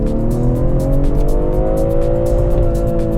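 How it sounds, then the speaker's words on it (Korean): A BMW turbocharged engine revs loudly and steadily, its pitch rising slowly as it climbs toward a fuel cut near 6,900 rpm, with a rough, throaty drone and no talking. "엔진의 음색만으로 놓고 봤을 때에는 저는 진짜 이 엔진은 탑3에 넣을 수 있을 것 같다"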